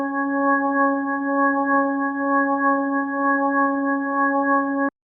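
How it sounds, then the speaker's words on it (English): A sustained organ chord plays through a slowly rotating Leslie speaker, its steady tones pulsing gently in a slow wavering sweep for about five seconds before cutting off abruptly. "putting an organ through it creates that special effect because the horn actually spins around."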